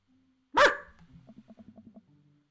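A dog in a video game gives one loud, sharp bark, followed by a quick run of about eight small, evenly spaced blips that trail off, with no voices present.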